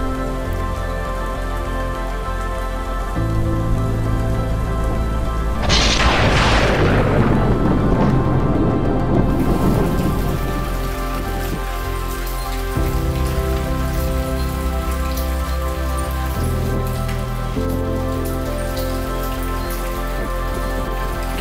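Steady heavy rain hisses throughout in Sultanpur, with a loud rumbling burst of thunder in the middle before the downpour settles again.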